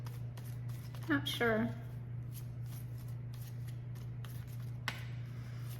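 A deck of cards is shuffled, giving soft, repeated riffling and flicking sounds close by, while a person speaks briefly over a steady low hum.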